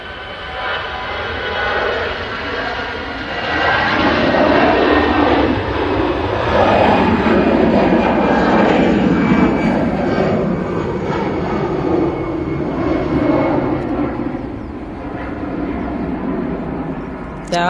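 Emirates airliner arriving at Manchester Airport, flying in slowly: a broad jet roar that swells and holds at a steady level before easing, with talk faintly over it.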